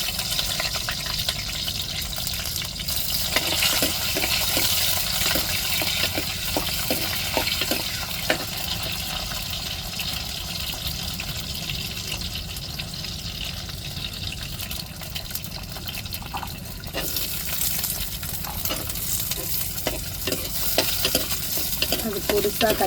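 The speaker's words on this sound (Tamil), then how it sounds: "எண்ணெய் சூடேறிட்டு இப்போ வெங்காயம் சேர்த்துக்கிறோம்." Onions and mustard seeds fry in hot oil in a pan, giving a dense, crackling sizzle with sharp pops and stirring scrapes throughout.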